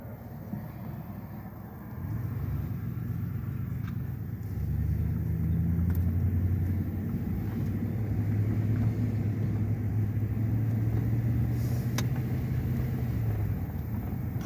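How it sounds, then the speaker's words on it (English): A low vehicle rumble builds and lingers as a car rolls past nearby in a canyon campground at Davis Mountains State Park, Texas, a steady droning hum over quiet surroundings. "Got one car coming."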